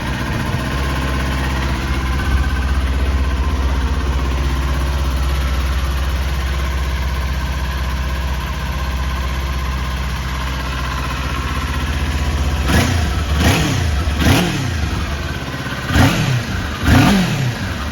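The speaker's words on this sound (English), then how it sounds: "Really nice, quiet, smooth sounding engine." A 2018 Kawasaki Ninja 400 sports bike with a standard exhaust can settles into a steady, smooth, quiet idle, close by, with a few short throttle blips near the end.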